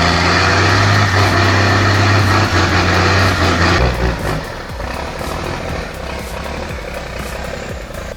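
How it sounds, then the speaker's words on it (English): A heavy, fully loaded logging truck engine labours uphill over swampy ground in Durango, a loud, steady diesel drone with strong low rumble that drops to a rougher, quieter grind partway through. "Fully loaded logging trucks are hauling massive weight uphill through swampy ground in Durango."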